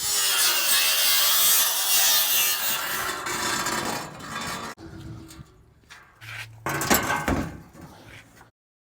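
A piece is cut off a dirt- and sand-filled Toyota Hilux RN46 chassis, with loud rough grinding and rasping metal-cutting noise close by for several seconds, then broken, uneven scraping bursts before it stops.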